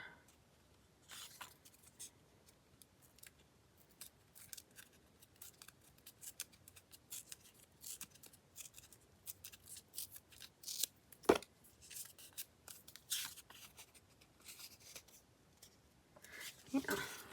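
Scissors trimming a corrugated cardboard mini journal page: faint, irregular snips and crisp cutting scrapes spread across the clip, with quiet paper handling between cuts.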